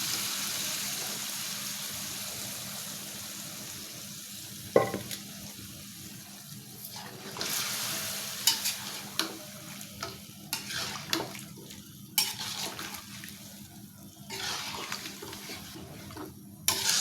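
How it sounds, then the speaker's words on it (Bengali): Meat fries and is stirred in a pan for a Bengali home-cooked dish, a steady hiss and sizzle broken by repeated scraping strokes and clatter of the spoon, close and continuous with no talk. "আমি মাংসগুলো ঢেলে দিলাম।"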